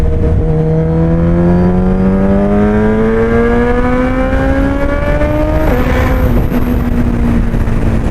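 Suzuki Hayabusa motorcycle fitted with a Penta carbon exhaust revving hard, a loud close engine note climbing steadily in pitch over several seconds, briefly dipping, then holding high with a raw, rasping edge.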